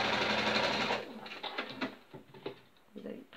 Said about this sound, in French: Et là, vous cousez des deux côtés.